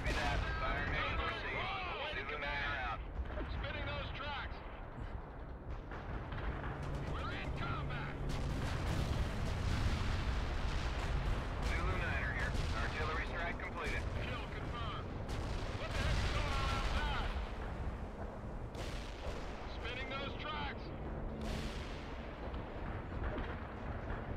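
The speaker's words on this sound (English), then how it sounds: "calling some precision artillery here" A precision artillery strike in the World in Conflict video game: repeated heavy booms and crackling blasts roll on for over twenty seconds, with in-game radio voices talking over the barrage.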